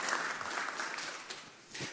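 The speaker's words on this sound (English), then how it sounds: "So, round of applause." An audience at a morning event with sponsors claps steadily, a dense wash of applause that lasts the whole time and fades a little toward the end.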